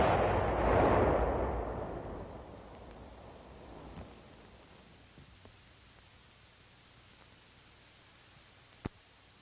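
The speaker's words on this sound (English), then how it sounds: "Then the charge is fired." An explosive charge fired to destroy an earthen tunnel in a combat engineering demonstration: a single heavy, muffled boom that swells and slowly decays into a long rumbling roar, followed by a quiet tail with a faint late crack.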